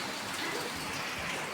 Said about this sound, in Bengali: আর এইদিকে দেখুন বৃষ্টি শুরু হয়ে গেছে।